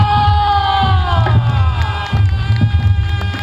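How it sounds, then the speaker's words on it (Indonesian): Outdoor crowd at a live Singobarong folk performance in Weleri cheering and shouting, with tonal instruments ringing over heavy low percussion; loud and close, voices whooping amid the music. "beri tepuk tangan yang meriah."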